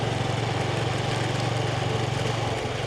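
A motorbike engine putters steadily during a street ride through Siem Reap, Cambodia. A close, even, rhythmic chug runs with a faint pulsing beat and no speech.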